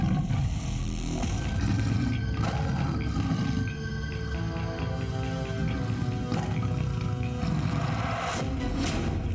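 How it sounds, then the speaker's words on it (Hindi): Tigers roar in Sariska Tiger Reserve, deep, drawn-out roars that rise and fall over a steady rumbling background and continue through the whole stretch. "सुनाई देगी बाघों की दहाड़।"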